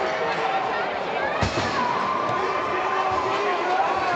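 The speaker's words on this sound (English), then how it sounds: "this sellout crowd of the Milestone Memorial Center, is going to stay loud the rest of the way" A loud sellout crowd at a U18 hockey final in the Milestone Memorial Center, a constant wash of cheering and chatter with a commentator talking over it and a single thump near the middle.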